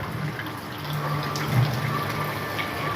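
Rain falls steadily outdoors where a monkey eats bananas, a continuous close hiss of drops with a faint low hum running underneath.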